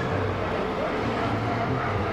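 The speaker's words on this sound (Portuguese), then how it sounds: "ele tem que passar justo agora o caminhão também" A truck passes on a street, a low steady engine rumble with broadband road noise that holds level for about two seconds, with no clear speech.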